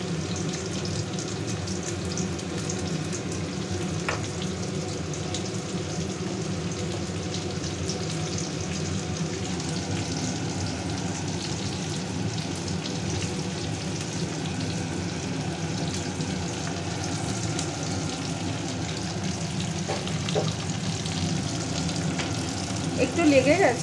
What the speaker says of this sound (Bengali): এবার এই তেলেই পেঁয়াজটা দিয়ে দেবো।